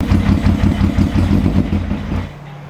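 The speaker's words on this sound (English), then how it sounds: "you revved it a little bit and it shut off" An engine chugs with a rough, pulsing rhythm as it is revved slightly, then falters, stalls and dies away into quiet, close and loud.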